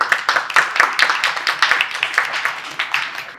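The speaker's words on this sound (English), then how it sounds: "Let's give them a round of applause." A small audience applauds at a startup pitch competition, a brief burst of scattered claps from a modest crowd, fairly close and fading slightly toward the end.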